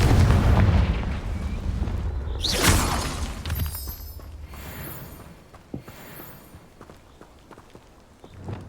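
A Confringo spell blast from Hogwarts Legacy, with a loud burst near the start, a sharp whooshing flare around the middle, then scattered impacts and crackles fading over rumbling background.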